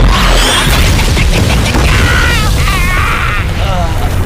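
A loud, booming explosion in a Mobile Legends game cinematic, heavy and sustained, with dramatic sound effects and character voices speaking over it.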